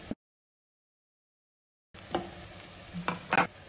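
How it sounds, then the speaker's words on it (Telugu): Sliced onions frying in a pan for a mushroom dum biryani, heard in a short burst of sizzling with a few stirring scrapes and clicks after a silent gap. "ఆనియన్స్ అయితే ఫ్రై అయ్యాయండి"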